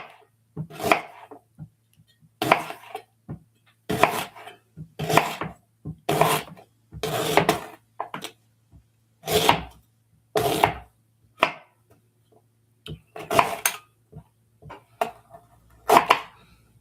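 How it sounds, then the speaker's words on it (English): A sharp kitchen knife cuts lemon slices on a board, each chop a crisp thud, falling in uneven clusters with short pauses between them. "I'm going to chop these up just a little bit because those are huge"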